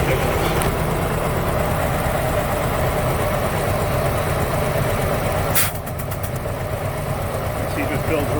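A rough, low engine idling steadily on only two cylinders, suspected of a sticking valve, with a continuous uneven rumble throughout and a brief clatter partway through.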